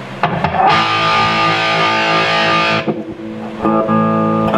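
A Gibson Les Paul electric guitar played at full volume rings out a loud, heavily distorted sustained chord, cuts off, then strikes again with a few picked hits.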